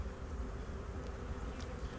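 Honey bees buzzing steadily in an open hive, a dense, continuous close-up drone with no voices.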